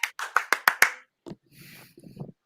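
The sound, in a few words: applause for Soju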